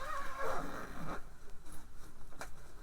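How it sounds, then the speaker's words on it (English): A zipper on a fabric cover over a craft cart gets pulled open in one quick zip, followed by soft rustling and light scraping of the cloth being flipped back, close and fairly loud. "I can unzip it and flip it back"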